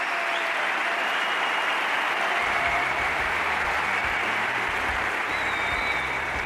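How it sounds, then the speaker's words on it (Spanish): Strong, sustained applause from a large audience at a Madrid talk, a thick continuous wash of clapping that stays loud and even throughout, with no speech. "Fuerte aplauso."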